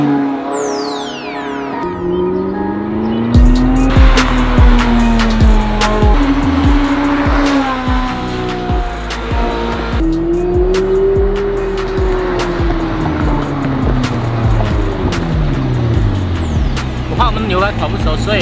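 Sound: sports car driven hard, engine roaring

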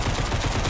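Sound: explosions going off on a video shoot

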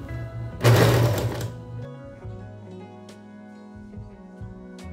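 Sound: sewing machine shirring a dress

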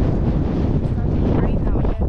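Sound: strong wind in the Lake District

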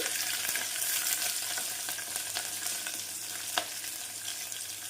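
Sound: spices frying in hot oil

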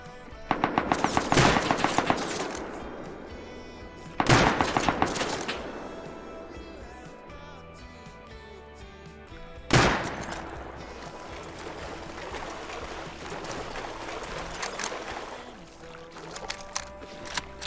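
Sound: AK rifle gunfire in Rust video game

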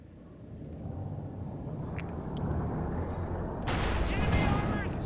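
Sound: artillery barrage in the Company of Heroes 2 video game

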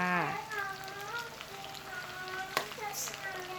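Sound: food frying in oil

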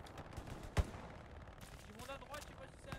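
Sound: gunfire in video game Hell Let Loose

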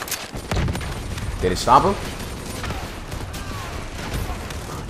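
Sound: gunfire in the video game Call of Duty Black Ops 3

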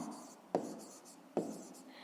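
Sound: writing the solution of a math exercise

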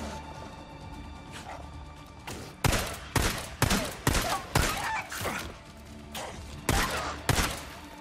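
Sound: gunshots in the video game Days Gone

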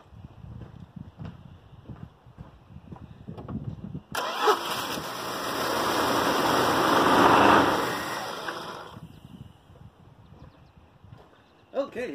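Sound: 1974 Plymouth Valiant engine starting after priming carburetor

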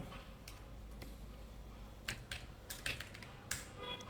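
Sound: typing code on a computer keyboard

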